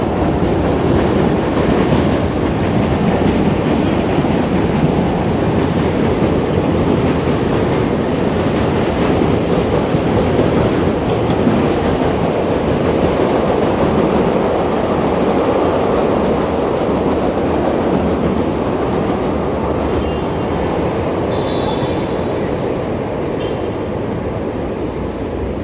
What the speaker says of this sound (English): then you hear the train